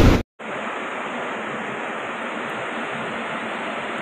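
Swollen Teesta river in flood in Sikkim, a dense unbroken roar of rushing water that stays loud and steady after a brief cut near the start.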